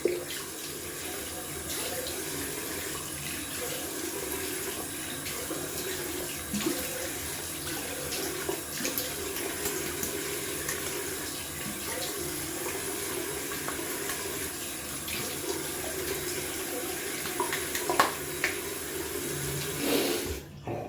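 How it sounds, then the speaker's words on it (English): Tap water runs steadily into a sink while a face is rinsed after a wet shave, a continuous close splashing wash with small irregular splashes and drips throughout. "I'm gonna rinse off."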